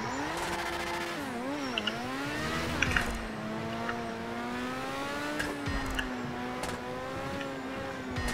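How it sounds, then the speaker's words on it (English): Race car in an open-wheel video game race, engine whining and shifting pitch through turns with scattered tire squeals and skids, loud and continuous throughout. "Skiddy, skiddy, skid, skid."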